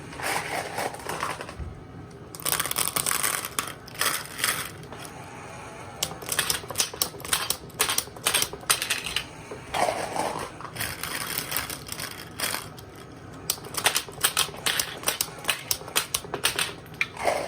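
Rapid mechanical clicks and snaps from a B-Daman Magnum Rising Dracyan toy launcher shooting marbles, close and fairly loud, in irregular bursts separated by brief pauses.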